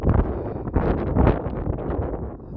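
Strong gusts batter the microphone on the steep hilltop of Beacon Hill near Highclere, a heavy, continuous roar with surging buffets and no voices.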